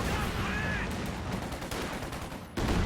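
Game gunfire pins down an infantry squad in a competitive strategy match, with scattered broadband shots over a dense battle bed and a sharper burst near the end.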